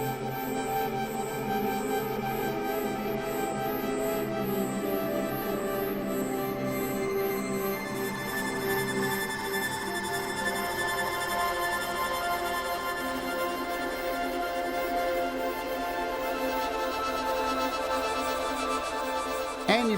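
A sustained synth pad from the Low Poly Synth app on iOS with its attack raised, swelling smoothly and holding long layered tones at low volume, with no talking over it.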